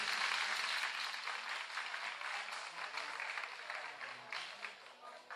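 Studio audience of a Spanish-language game show applauds steadily, a dense wash of clapping that stays loud throughout with no cheering.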